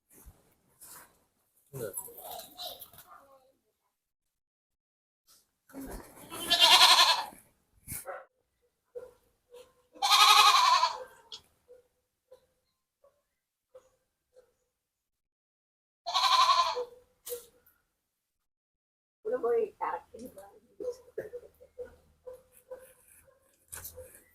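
Malabari goats on a farm let out several loud, wavering bleats spaced apart by quiet gaps, with scattered softer animal sounds and rustles in between.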